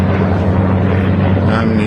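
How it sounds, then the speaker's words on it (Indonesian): An American military helicopter flies overhead, its loud, steady engine and rotor drone continuous and close throughout. "Helikopter Amerika."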